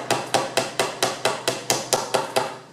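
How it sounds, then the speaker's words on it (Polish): A hammer strikes a screwdriver set into a wedge to drive it out of a Howdah Hunter pistol, about ten sharp metallic knocks at a steady brisk rhythm, close and loud, with no talking. "Tu akurat jest takie wycięcie w tym klinie, które idealnie wpasowuje się śrubokręt i za pomocą młotka"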